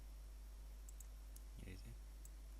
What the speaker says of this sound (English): click apply, click OK